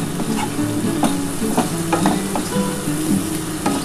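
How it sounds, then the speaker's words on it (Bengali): Snail curry masala with a pinch of sugar fries and is stirred in a pan, a steady loud sizzle running throughout with repeated scraping strokes of the spoon close by. "এবার এটা ভালো করে কষিয়ে নিতে হবে।"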